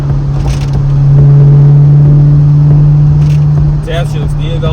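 Chevy Camaro SS engine in sport mode, a loud close droning rev that swells and holds, followed by a few sharp exhaust pops near the end, with someone talking over it.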